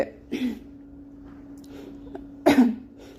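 A person with a sore throat coughs and clears their throat in two short, close bursts separated by a quiet pause, with a faint low hum underneath.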